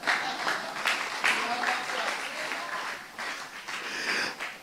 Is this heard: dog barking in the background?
no